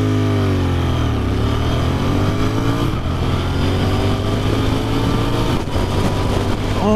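A 2019 Royal Enfield Interceptor 650 twin motorcycle accelerates hard and loud, its engine note climbing through the gears with a brief dip at a shift, steady and close throughout.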